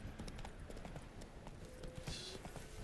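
Hooves of Roach, the horse in The Witcher 3, clip-clopping in a steady walking rhythm, light and fairly quiet.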